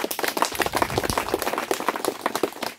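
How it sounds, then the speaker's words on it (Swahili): A crowd of residents gathered at a road and bridge project event in Kilimanjaro claps together, a dense, steady patter of many hands carrying on for a few seconds. "Tujipongeze kwa makofi mengi sana."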